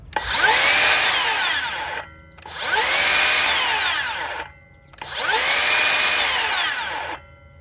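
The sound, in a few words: Makita 40V XGT rear handle circular saw running, electric brake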